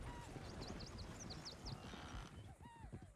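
Horse hooves clip-clop faintly in the Western open-world video game Red Dead Redemption 2, as a soft, rhythmic patter under a steady outdoor ambience, with light chirps of wildlife in the background.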